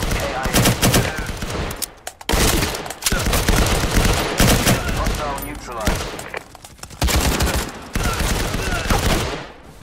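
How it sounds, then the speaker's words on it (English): Rapid bursts of gunfire from blind firing around corners in Firewall Zero Hour, a tactical shooter, crackling in repeated volleys broken by short pauses. "Blind firing around corners is so much fun."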